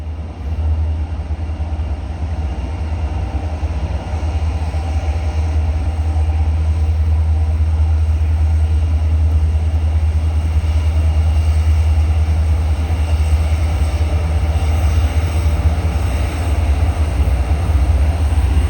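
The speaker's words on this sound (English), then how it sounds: "Uh-oh, here comes the train." A loud, steady low rumble of a train rolling by, continuous and close, with a constant roar and no voices.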